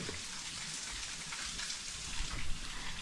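Steady monsoon rain falls and patters on surfaces nearby in a Konkan village in Raigad, an even hiss of drops with no voices.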